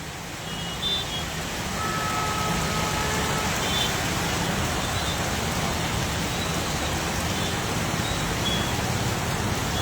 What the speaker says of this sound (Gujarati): વડોદરા શહેરના વિવિધ વિસ્તારોમાં ધમાકેદાર વરસાદ વરસી રહ્યો છે